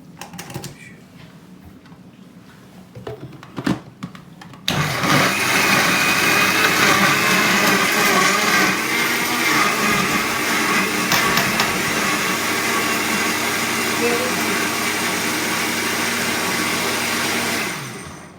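A kitchen blender kicks on after a few quiet clatters and knocks, then whirs loudly and steadily for about thirteen seconds before cutting off near the end.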